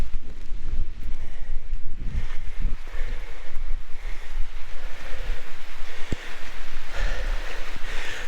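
Strong storm wind gusting through big trees, a loud buffeting roar with rumbling wind against the microphone that rises and falls in waves over several seconds.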